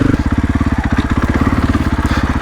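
A 2024 KTM 500 EXC-F dirt bike with traction control fitted on a hill test trail throbs loud and close at low revs, its single-cylinder engine pulsing evenly without any voices.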